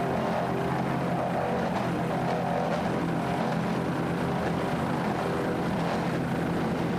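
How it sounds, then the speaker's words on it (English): A 38-foot Fountain offshore racing powerboat throttles its engines, a steady broadband roar with rising and falling surges held loud and continuous throughout. "Nice throttling there by Wyatt Fountain."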